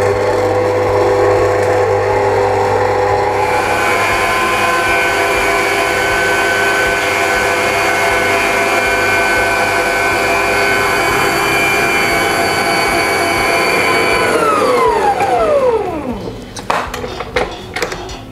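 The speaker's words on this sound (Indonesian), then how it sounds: "Kita akan kocok telur dan gulanya ini sekitar 12 menit atau sampai mengembang." An electric mixer beats eggs and powdered sugar for a pandan coconut sponge cake, a loud, steady high whine that runs without a break, then winds down as the motor stops, followed by a few light clatters.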